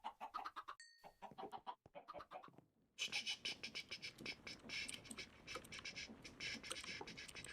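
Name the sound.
chickens clucking in Minecraft video game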